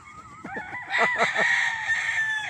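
A rooster crows loudly and close by, a long rising call with clucking bursts at the start, no talking.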